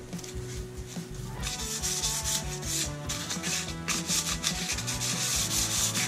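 The grille of a 1966 Mustang hand-sanded with 320-grit sandpaper, giving continuous close scrubbing strokes that are loud and steady after a brief quieter start.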